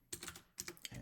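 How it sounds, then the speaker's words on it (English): Quick bursts of keystrokes on a computer keyboard, close and fairly quiet, in two short clusters of taps with a brief pause between. "keep typing these"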